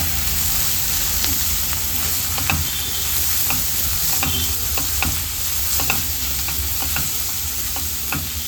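Spice masala with turmeric fries in a pan, a loud, steady hissing sizzle with scattered crackles and occasional stirring clicks throughout.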